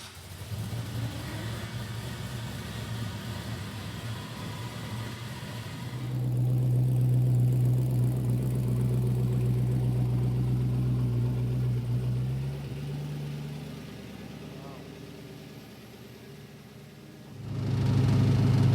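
A 1959 Chevrolet El Camino engine with a new intake, manifold and injectors, built for about 400 crank horsepower, runs on a dyno: a steady idle, then a louder sustained rev held for several seconds, settling back before rising again.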